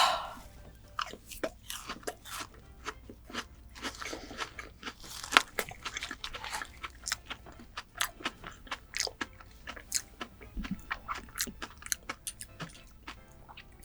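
Vietnamese gac fruit sprinkled with sugar is bitten and chewed up close, with soft wet crunches and smacks in an irregular rhythm, fairly quiet and without talk.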